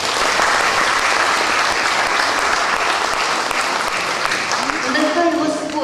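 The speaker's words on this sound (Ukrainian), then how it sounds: "Ваші оплески!" A concert-hall audience at a Pokrova concert applauds warmly, with sustained, dense clapping filling the room throughout and a faint voice or musical tones emerging near the end.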